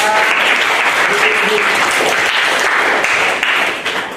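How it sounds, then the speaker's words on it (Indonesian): A classroom of students claps together, producing loud, dense, continuous hand clapping for about four seconds that tapers off at the end. "kita tepuk tangan kita"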